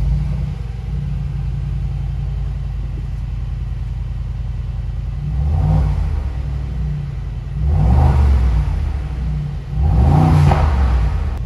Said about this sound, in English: Now it's time to start up the car.